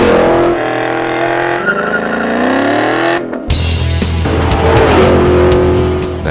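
Loud Ford Mustang GT V8 fitted with a Borla exhaust, 2011–2014 model, revving hard: a deep harmonic roar climbs and settles, breaks off briefly, then bursts back into a rough, throaty blast that holds to the end, with no talk.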